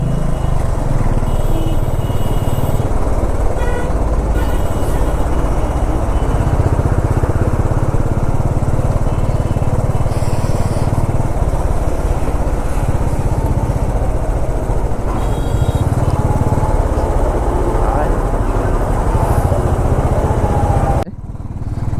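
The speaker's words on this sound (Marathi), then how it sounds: "जाम ट्रॅफिक लागले" Heavy road traffic jam with motorcycles, heard from a bike on the move, a loud continuous close engine drone with revving swells and passing vehicles, cutting off abruptly at the end.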